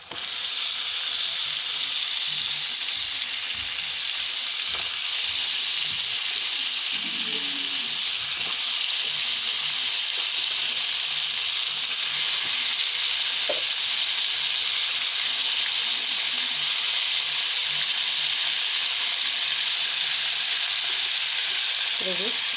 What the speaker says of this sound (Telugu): బాగా ఫ్రై అయిపోయింది ఫ్రెండ్ ఇప్పుడు చికెన్ వేసుకుంటున్నాము